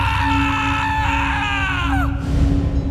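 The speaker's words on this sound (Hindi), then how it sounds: "डर से उस लड़के की चीख निकल गई" A dramatized scream of a boy in fear in a horror story, a loud, sustained high-pitched cry that bends downward and then cuts off, over a steady low hum.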